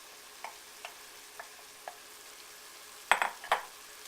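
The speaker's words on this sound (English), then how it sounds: "we're going to stir the onion into the pork and let it saute until the onion gets translucent" Finely chopped medium onion stirred into browning pork in a pan, with faint sizzling under a few light scrapes and taps of a utensil, ending in louder stirring clatter near the end.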